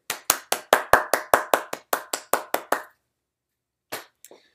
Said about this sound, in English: Let's have a big round of applause for Peter Couric.